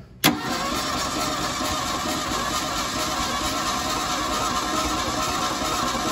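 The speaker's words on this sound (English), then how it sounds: "As soon as it starts, let out the key, Nate." A 1977 Ford Mustang II, off the road since 1989, fires up after a brief crank and settles into a steady, loud idle close by.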